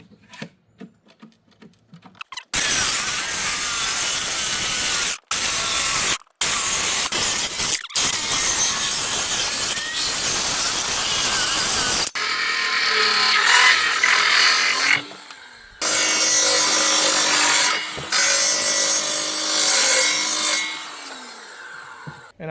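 A Sawzall reciprocating saw cuts the wooden base of a golf cart seat in long, loud, close bursts with brief pauses, then a rougher, stuttering stretch of cutting toward the end.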